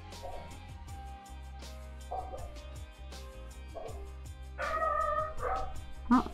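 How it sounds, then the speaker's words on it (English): Several indoor dogs bark and yip in short bursts, a few barks spread across the clip and growing louder near the end, under faint background sound with no clear speech. "If you can hear the dogs going off"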